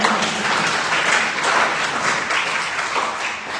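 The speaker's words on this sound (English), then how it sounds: "We deserve a big round of applause for everyone who helped make this happen" An audience applauds for the helpers of a pledge drive, with dense, continuous clapping from many hands that holds steady throughout, close and loud, with no talking over it.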